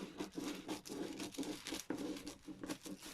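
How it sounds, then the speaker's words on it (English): Scissors snip through paper for an art journal page in a quiet room, a series of soft, rhythmic crisp cuts and paper rustles close to the microphone. "Scissors."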